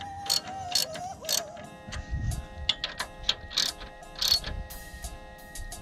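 Ratchet tightening exhaust bolts under a 2003 Saturn L200, a series of close, uneven clicks and metallic ticks in short bursts over a steady background hum.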